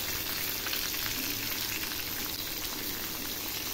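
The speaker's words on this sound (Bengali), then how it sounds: "এখন আমি করলাগুলো একটু ভেজে নেব। হালকা করে ভেজে নেব।" Bitter gourd and drumstick pieces fry in a pan with turmeric and salt, giving a steady, close hiss and sizzle that holds evenly throughout with no talking.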